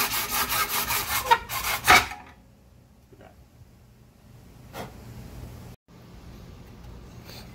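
A reciprocating saw cuts through a part on a Jeep JK in loud, rasping bursts for about two seconds, then stops, leaving only quiet background.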